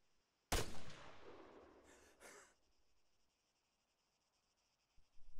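A single loud shot from an MX 6.5mm assault rifle in the military game Arma 3, fired while standing, followed by a fading echo and then near silence.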